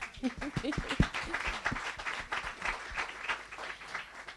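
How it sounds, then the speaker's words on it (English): Conference audience giving a round of applause, a quiet, steady patter of many hands clapping at a distance, with a few fainter voices mixed in under it. "Please give yourselves a round of applause."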